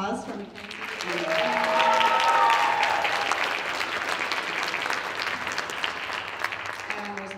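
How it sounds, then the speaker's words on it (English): An audience at the Holliston High School spring concert applauds a student performer in a steady, dense wash of clapping that swells early and holds to the end, with a voice speaking briefly at the start and again near the close. "Another round of applause for Mackenzie."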